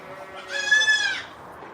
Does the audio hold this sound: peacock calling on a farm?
yes